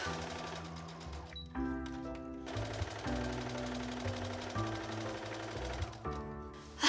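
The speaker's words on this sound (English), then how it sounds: "going to put 2 parallel basting stitches all across this big piece" A home sewing machine runs basting stitches in two parallel rows across a large piece of bedsheet fabric, its needle chattering in a fast, even rhythm with brief pauses and restarts, close and fairly quiet.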